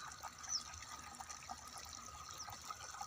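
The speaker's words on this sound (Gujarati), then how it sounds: "મોટર ચાલુ ને પેલું પાણી આપણે ગાજરના ક્યારા મૂકી દીધું છે" Water from a motor pump flows steadily into furrowed carrot beds on a farm, a continuous trickling rush that stays even and fairly quiet throughout.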